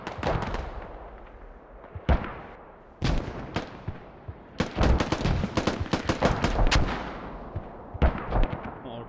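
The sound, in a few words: mortar fire and explosions in a video game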